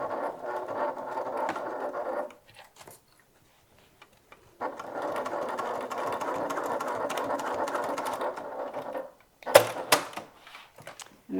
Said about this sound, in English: So I'm just gonna poke this back out and just re-stitch over that.